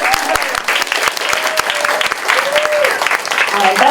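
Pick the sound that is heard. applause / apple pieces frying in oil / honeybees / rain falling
applause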